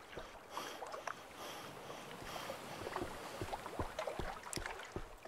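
A small boat in a horror video game glides through water with a steady wash of splashing and wind noise, punctuated by occasional sharper sloshes and knocks.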